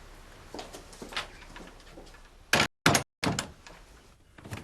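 Sharp knocks and thuds of a door opening or closing in a quiet interior, several brief impacts scattered across a few seconds with short silent gaps, no voices.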